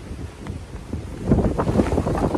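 Cold Michigan wind gusts buffet a camera set down on a driveway outdoors, a loud, rough rumbling roar that strengthens partway through and stays steady to the end.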